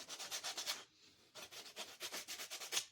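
Sandpaper is rubbed by hand along the edges of a beginner wood project in quick, rhythmic back-and-forth strokes, close and soft, with a short pause partway through before the strokes resume.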